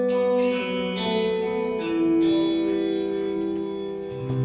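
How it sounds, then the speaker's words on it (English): Sustained musical notes ring through a studio spring reverb unit with two isolated springs, each tone blooming into a shimmering, metallic tail that overlaps the next as the notes change. "you can kind of hear the different notes sort of excite the spring differently"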